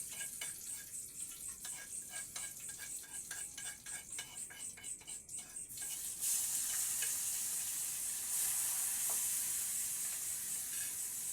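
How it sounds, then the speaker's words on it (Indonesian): Garlic and shallots fry in oil in a pan, a steady, close sizzle with crackling ticks and stirring, which swells into a louder, brighter hiss halfway through. "kita langsung goreng"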